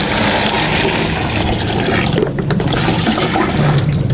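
Copper sulfate solution pours into lime solution while Bordeaux mixture is mixed, a loud, steady, rushing splash of liquid lasting several seconds, close and alone with no voices.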